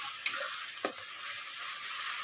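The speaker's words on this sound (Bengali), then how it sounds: "সেই জন্য আমি ভালো করে একটু পেঁয়াজের সাথে রসুনটাকে ভাজবো" Garlic and onion fry together in a pan with a steady close sizzle, broken early on by two quick scraping stirs.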